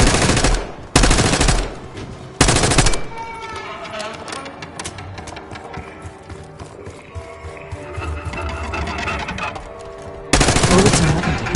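Gunfire in Call of Duty Black Ops 6: loud, close bursts of automatic fire break out at the start and again near the end, with quieter game action and scattered shots in between.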